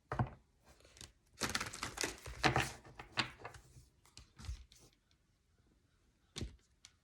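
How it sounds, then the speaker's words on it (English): Oversized tarot cards are handled and shuffled in close, uneven bursts of papery slapping and sliding, with a cluster of dense rustles early on, a pause, then one more short flurry. "These cards are huge."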